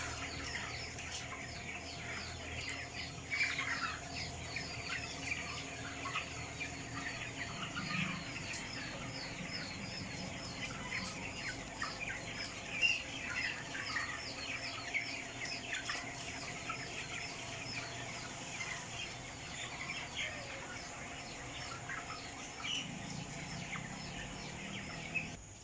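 Crowded pen of 25-day-old broiler chickens on a farm, a steady dense chorus of clucking and chirping from many birds throughout, close and continuous with a constant background hum.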